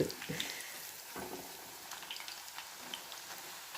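Onion pakoda frying in hot oil, a steady soft sizzle and crackle with small pops running throughout, fairly faint and close.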